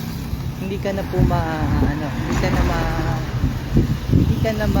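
Cars and other vehicles passing on a road during an outdoor jog on a cool morning, a continuous rumbling traffic wash under steady close talking.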